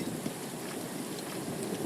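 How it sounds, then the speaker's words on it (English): Rain falling in Final Fantasy 7 Rebirth on Mt. Nibel near a reactor, a constant soft hiss of pattering drops at moderate level with no voices. "and it's starting to rain."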